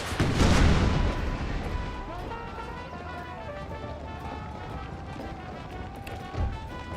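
Napoleon cannons and a howitzer fire in an Empire: Total War Civil War mod battle. One heavy boom is followed by a long rumbling decay, and a fainter second shot lands near the end.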